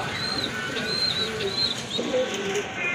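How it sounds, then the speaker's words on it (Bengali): A big-sized pair of Lakka fantail pigeons coos softly and steadily, with low murmuring calls and a few faint higher tones throughout. "তো যারা লক্ষা কবুতর খুঁজতেছেন তারা কিন্তু এই পেয়ারটা কালেকশন করতে পারেন"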